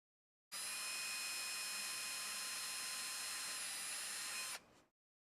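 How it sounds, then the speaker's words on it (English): A power drill pre-drilling holes in a Casadio Unimog kit build whirs at a constant high pitch for about four seconds, then spins down and stops. "I will go ahead and pre-drill these holes though."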